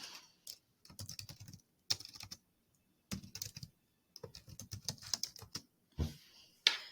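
Bursts of computer keyboard typing while a name is entered into an online form, quick close key clicks in short runs separated by brief silent pauses.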